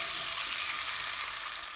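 Two tomatoes frying in a pan for a chicken and bottle gourd curry, giving a dense, even, close sizzle that holds steady throughout, ending in a brief thump, with no voices.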